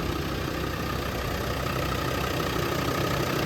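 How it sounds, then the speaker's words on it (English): A 1999 Land Rover Td5 five-cylinder diesel engine idles steadily with an even, low clattering rumble and no voices. "5-cylinder diesel, just kind of motors right along."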